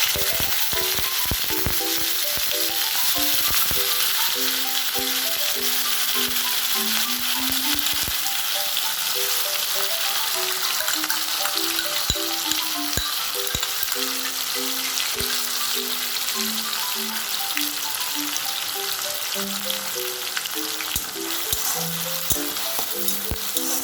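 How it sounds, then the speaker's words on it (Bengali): Bay leaf, dried red chili and whole cumin sizzle and crackle in hot oil for palak paneer, with a steady frying hiss, sharp popping crackles and the faint clink of a stirring spoon over a background melody. "এরপর এতে আমি তেজপাতা আর শুকনো লঙ্কা ফোড়ন দিলাম।"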